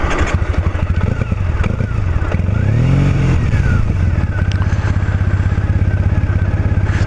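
A Triumph Bonneville parallel-twin motorcycle runs on the road with a close, steady, thumping exhaust beat, swelling briefly as the engine revs up and settles back, under a rushing wind noise.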